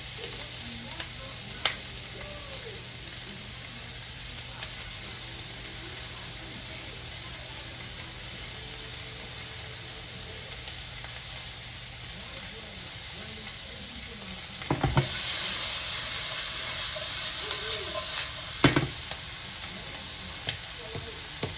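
Peppers sizzle steadily in a hot pan for chicken lettuce wraps, a constant crackling hiss that grows louder partway through, with occasional scrapes and clinks of stirring.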